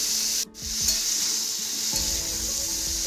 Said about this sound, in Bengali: সবজি আমি পেঁয়াজের সাথে ভালোভাবে ভেজে নিচ্ছি